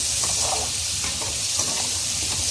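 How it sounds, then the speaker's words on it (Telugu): Capsicum and onions sizzle in a hot pan for a mixed vegetable curry, a steady frying hiss with faint stirring scrapes close by. "ఇప్పుడు మనము క్యాప్సికమ్, ఎర్రగడ్డలు ఇలాగే కొంచెం కొద్దిగా ఫ్లేవర్ పచ్చివాసన పోయేంత వరకు కొద్దిగా వేయించుకోండి"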